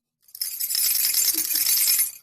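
A vocal sound effect imitating a little finger scratching inside the ear, heard as a steady, hissy rustling scratch that sets in quickly and holds for about two seconds, close and alone with no talk.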